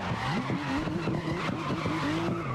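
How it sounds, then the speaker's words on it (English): In the racing game GRID (2019), a car drifts under handbrake with loud continuous tire squeal and skidding over a revving engine, pitch wavering up and down throughout. "using the handbrake to drift"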